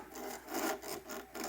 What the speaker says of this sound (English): So this is my favorite sanding machine for nice flat surfaces.